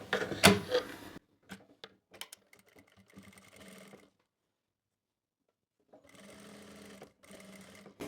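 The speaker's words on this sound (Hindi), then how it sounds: "यहाँ से बैठी सिलाई लगा लेंगे" A sewing machine stitches panels of a kurti, running in a loud rattling burst at the start, then in short stop-start runs with a silent gap before a steadier stretch of stitching near the end.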